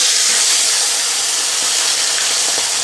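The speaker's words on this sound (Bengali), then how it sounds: "এই রোস্টটাই এখন আমরা এই গরম তেলে দিয়ে ভাজবো" Marinated chicken roast, made with milk and yogurt, fries in hot oil with a loud, dense, continuous sizzle and hiss that carries on without any speech.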